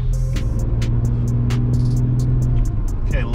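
A tuned 2.7T engine idles at low throttle, close and loud, giving a steady even hum with a smooth low throb and faint clicking on top, no misfire stumble.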